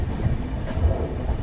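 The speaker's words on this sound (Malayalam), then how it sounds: "7:27 എത്തേണ്ട ഈ ട്രെയിൻ ഇപ്പോൾ 7:29 ആയപ്പോഴേക്കാണ് കോഴിക്കോട് റെയിൽവേ സ്റ്റേഷനിലോട്ട് ഇപ്പോൾ എത്തിക്കൊണ്ടിരിക്കുന്നത്" Train rumbling into Kozhikode railway station, a steady low rolling drone with faint rail clatter, fairly loud and continuous with no voices.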